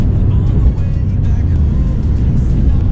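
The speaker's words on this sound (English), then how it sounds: "You get the howl of the air-cooled engine, and you get the mechanical sound" The air-cooled flat-six of a Porsche 993 pulls hard under acceleration, a loud, continuous mechanical roar heard from inside the car for a few seconds.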